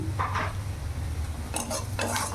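Fenugreek leaves with salt, turmeric and cumin powder are stirred in a pan, producing a few short scraping, clinking bursts of a utensil against metal over a low, steady background hum.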